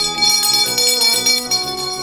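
A hand bell rings loudly and steadily, its bright sustained tones ringing continuously and alone for about two seconds.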